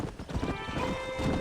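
Galloping hooves clip-clop steadily with a horse whinnying over them, a mounted ride in the Red Dead Redemption video game, close and continuous for a brief stretch.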